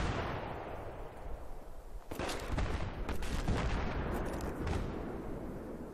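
A machine gunner opens up in a Battlefield 3 match, with loud, dense bursts of gunfire and booming blasts over a constant roar of battle.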